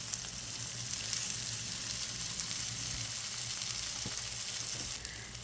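Ground chuck patties brown in a pan, giving a steady, close frying sizzle that hisses evenly with a faint knock near the end.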